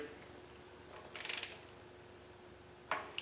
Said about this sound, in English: you want to hold the torque wrench up here and not pull crooked